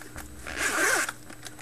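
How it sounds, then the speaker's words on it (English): A nylon zipper on a headphone case being pulled open in one continuous zip, close and crisp, rising and then fading, with no talk over it. "Nylon zipper."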